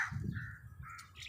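A crow gives two or three hoarse caws in quick succession, fairly close, over faint low background rumble.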